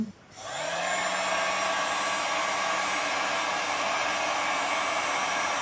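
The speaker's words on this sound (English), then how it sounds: "This was a really cheap heat gun" A cheap heat gun switches on and runs with a steady, loud, whooshing blower roar and a high motor whine, close and unchanging after a brief start-up.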